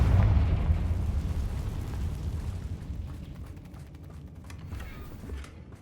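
A spell blast goes off in Hogwarts Legacy, a fire spell explosion opening on a heavy low boom that rolls and rumbles away slowly, with faint crackling debris near the end.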